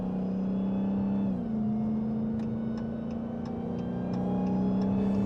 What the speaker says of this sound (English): Whoa, listen to that whine. Yeah, that's the supercharger